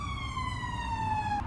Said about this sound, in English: Ambulances have no respect for my filming schedule.